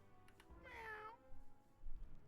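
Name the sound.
cat meowing in the video game Wizard101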